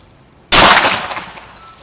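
A single loud gunshot from a gun cracks out sharply after a short quiet moment, then trails off in a fading echo.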